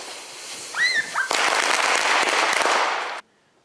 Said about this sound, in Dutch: Let op, flitsen met een kanonslager.